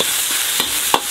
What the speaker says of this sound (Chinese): 放入五花肉丁， 这炒出香味，